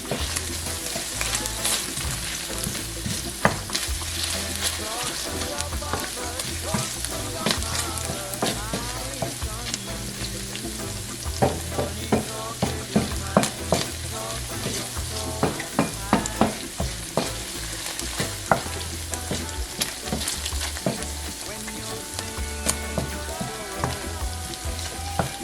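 Garlic fries in a pan and is stirred with a wooden spoon, making a steady close sizzle with frequent light scraping and tapping strokes throughout.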